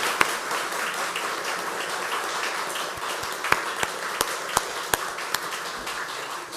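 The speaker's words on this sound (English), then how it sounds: "big round of applause for Greg." Audience applause, a soft wash of clapping that thins out into a handful of distinct, spaced single claps toward the end.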